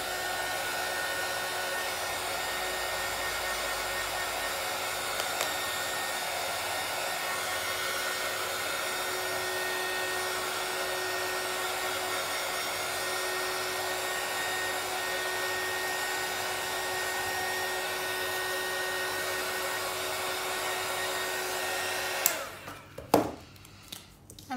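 Hair dryer blowing steadily to dry paint on a mixed-media Christmas card, a constant close whooshing drone that runs alone for over twenty seconds before cutting off with a few handling knocks.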